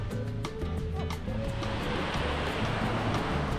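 Sea waves wash onto the shore in a steady, broad roar, growing fuller and louder as a wave breaks midway, with some wind buffeting the microphone.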